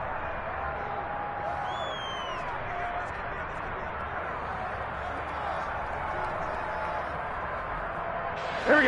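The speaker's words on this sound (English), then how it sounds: "The crowd getting into it as we come up on a big third down" A stadium crowd in the Madden 23 football game sends up a broad, steady roar of cheering during a tense late-game third down, with a commentator's voice heard across it.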